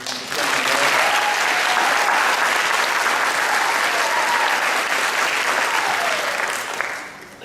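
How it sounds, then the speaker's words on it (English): A graduation crowd at the DMAC 2016 ceremony claps for its graduating students in a loud, sustained, dense wave of applause that holds steady for several seconds before tapering slightly at the end. "Can we just give another round of applause to these guys that are graduating?"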